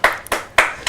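A few sharp, close hand claps in an uneven rhythm, four distinct loud slaps from a small studio audience on a sports talk panel show.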